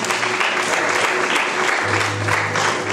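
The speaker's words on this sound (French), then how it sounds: "Est-ce qu'on va acclamer pour la parole de Dieu?" A church congregation applauds loudly and continuously for the word of God, a dense, sustained roar of clapping filling the room for the whole stretch, with no clear voices on top.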